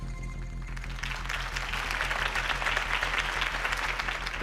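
A crowd applauds after a campaign speech in Batman: The Telltale Series, a sustained wash of clapping that swells over a low musical drone and holds steady.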